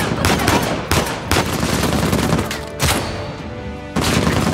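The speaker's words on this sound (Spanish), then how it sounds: "Una ametralladora ligera." Light machine gun fire in the video game Uncharted 4, loud bursts of rapid automatic shots with brief pauses between them, close and dominant throughout.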